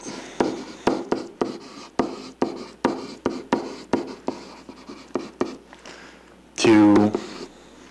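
Handwriting, with repeated scratchy strokes of a pen on paper in a steady rhythm close to the microphone, then a brief louder rustling burst near the end.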